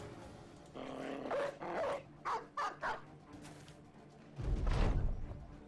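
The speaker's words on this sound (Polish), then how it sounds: "skierujmy tutaj też Likona i spuścimy psa" A war dog released in the video game Battle Brothers, heard as a run of growls and several short sharp barks in quick succession, then a deeper rumbling snarl near the end, with no talk over it.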